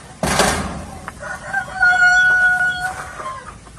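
Farm turkeys sitting on their nests of eggs give clear, drawn-out tonal calls after a short rustling burst, close and alone with no talking.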